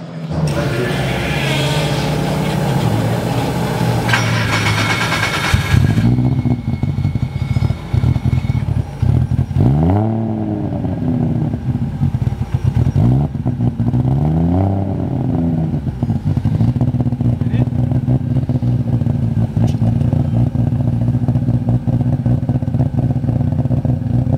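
A 900hp RB26-swapped widebody Nissan Skyline R31 GTS-R engine fires up and idles loudly, then revs in several rising and falling sweeps before settling back to a rough, lumpy idle nearby.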